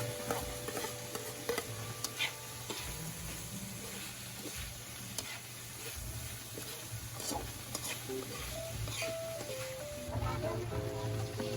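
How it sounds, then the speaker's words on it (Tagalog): Hotdogs fry in hot oil, giving a continuous crackling sizzle with scraping and stirring sounds. People talk over it now and then. "pag nagmamantika na siya ganito, pwede na nating ilagay ang hotdog"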